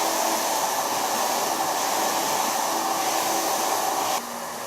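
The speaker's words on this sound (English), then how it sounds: "now I'm going to blow dry her hair" A hair dryer blows steadily while drying hair, a constant close whooshing whine that drops to a lower, quieter setting near the end.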